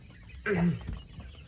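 A single short chirping call from a quail rises briefly over a quiet, low background hum.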